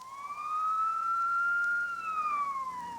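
An ambulance siren from Midtown Camden sweeps in a single long rising-and-falling wail, loud and steady throughout with no talk over it.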